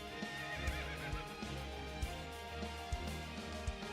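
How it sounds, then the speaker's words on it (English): A horse in the video game Fate/Grand Order whinnies with a long, wavering neigh while hooves clip-clop in a steady rhythm beneath, close and clear. "Oh, that horse Braze belongs to."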